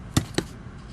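Scissors cut paper for a mixed media journal, making two crisp, close snips about a fifth of a second apart, followed by a quiet room.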